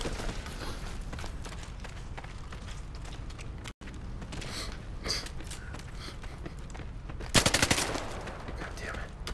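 Gunfire in a James Bond video game: a dense clatter of shots and mechanical clicks runs throughout, with a sharp louder burst near the end.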